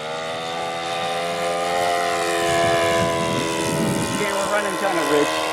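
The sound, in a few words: Goldberg Super Chipmunk aircraft engine at full throttle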